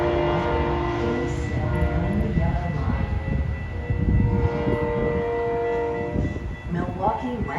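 Milwaukee West commuter train number 2205 pulling into a station: a loud, sustained rumble overlaid with tonal, horn-like chords, and voices faintly present nearby.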